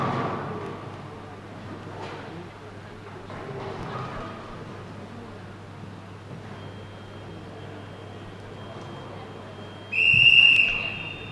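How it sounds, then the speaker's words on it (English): A referee's whistle at the 2013 QubicaAMF Bowling World Cup, men's round, sounds as one short shrill blast near the end, after a long stretch of quiet arena murmur and a faint steady tone. "we'll hear a whistle coming up in just a moment after a final shot from the Ethiopian bowler"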